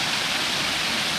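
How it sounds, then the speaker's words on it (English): Waterfall at Knife Shop Falls in White Memorial Conservation Center, Connecticut, pouring beside old knife shop mill ruins into a deep pool, giving a steady, broad, loud rushing roar with no talk. "That's actually a really nice waterfall"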